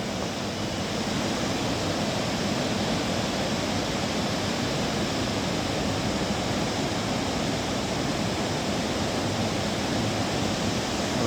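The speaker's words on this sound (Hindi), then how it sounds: "देख रहे हो कितना बड़ा वाटरफॉल है भाई" A large waterfall beside a roadside tea stall in the hills between Lohaghat and Munsiyari sends out a steady, loud, full-bodied roar that never lets up, with no voices over it.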